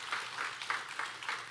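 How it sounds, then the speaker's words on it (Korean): A Korean church congregation claps to welcome a visiting husband from Korea, a brief dense patter of many hands at moderate volume, rising and falling in soft waves. "우리 박수 한번 부탁드립니다."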